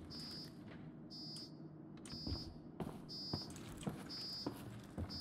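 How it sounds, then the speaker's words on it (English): Repeated electronic beeps sound in the video game Paradise Lost, short high tones recurring about once a second over a low rumbling ambient background, with no talking. "Why is that beeping?"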